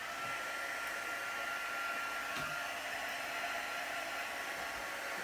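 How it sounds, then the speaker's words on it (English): A heat tool blows steadily to dry paint on a floral heart craft piece, giving a continuous, loud, even whoosh of air across the whole stretch with no talking. "So I'm just going to grab my heat tool, which I have down here."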